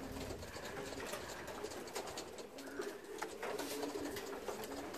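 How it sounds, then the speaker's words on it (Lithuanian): Racing pigeons during junior training on a hot, sultry day, with soft cooing and fluttering coming steadily through a constant outdoor background hiss, fairly faint and moderately close. "paukščiai lekuoja"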